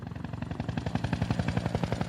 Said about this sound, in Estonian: See on kopter.